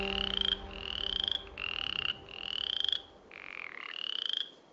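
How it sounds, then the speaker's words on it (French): A male western chorus frog gives its breeding call, a series of rising, raspy creaking trills repeated about five times at a steady rhythm, fairly faint outdoors with a low background hum. "je ne sais pas si vous avez entendu ce que la rainette disait."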